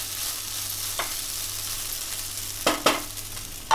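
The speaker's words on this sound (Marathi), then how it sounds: "पटापट ढवळून घ्यायचो." Sago khichdi (sabudana) gets stirred quickly in a pan over a low flame: a steady soft sizzle with a few sharp scraping bursts of the spoon near the end, close and with no voices.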